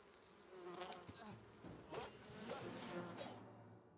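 Bees buzzing in the video game Enshrouded, a wavering insect drone with rising and falling pitch passing close by, faint and intermittent, fading out near the end.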